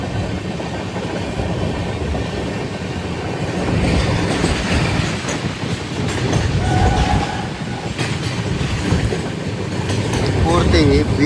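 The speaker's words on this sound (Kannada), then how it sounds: "ಅದು ಗಾಡಿ ಬಂತು." A goods train passes close by near the Tunganhadra dam crossing, heard from aboard the Hampi Express, a steady loud rumble of rolling wagons with clattering wheels and a brief squeal, under some faint talk.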